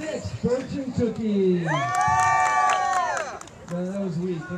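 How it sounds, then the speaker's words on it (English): A crowd at a Ragnar relay race whoops and cheers briefly for a team, mixed with nearby talking and shouting. "You guys come out and cheer for that team"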